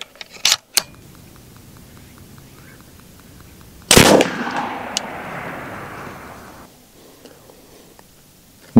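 An AEA Challenger Elite air rifle fires a heavy 247-grain slug, giving sharp cracks followed by a dull hammer-bounce thump; a couple of quick early shots, then one louder crack with a trailing decaying rumble, alone without talk.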